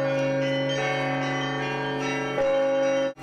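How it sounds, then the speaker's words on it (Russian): Church bells ring in a sustained, overlapping peal, rich and resonant, holding steady with a brighter strike near the end before cutting off, welcoming a regional governor and presidential envoy. "Колокольным звоном встретил главу региона"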